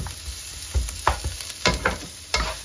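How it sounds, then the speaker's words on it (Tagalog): A little oil sizzles steadily as pork adobo ingredients are sautéed, with intermittent clacks and scrapes of a utensil stirring the pan, close and fairly loud. "So, saute lang natin until mag-translucent. So, konting oil lang"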